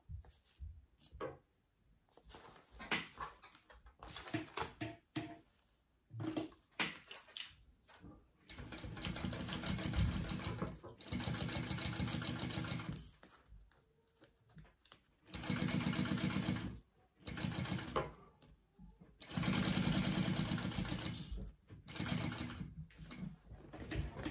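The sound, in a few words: sewing machine sewing zipper seam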